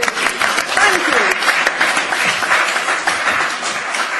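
An audience at a real bread campaign discussion event breaks into sustained clapping, a dense applause that carries steadily with voices mixed in.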